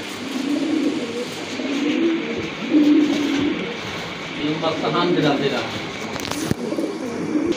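A pair of large fancy pigeons at a sale coo in low throaty bursts, partly buried under a busy background of voices and crowd noise.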